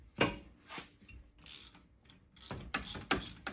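Ratchet wrench clicking in several quick bursts while turning bolts during a car brake replacement with broken brake disc bolts, close and fairly quiet, with pauses between strokes.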